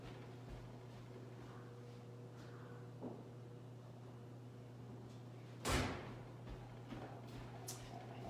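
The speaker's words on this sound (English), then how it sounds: "I'm gonna go close the door real quick" A single door closes with a firm thump midway through, against a steady low hum, followed by a few faint knocks.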